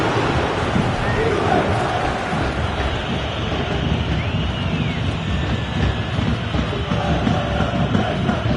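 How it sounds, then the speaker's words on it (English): A football video game stadium crowd roars in a continuous, dense wash of cheering, loud and sustained, with a commentator talking over it. "The crowd certainly think so. Just listen to them."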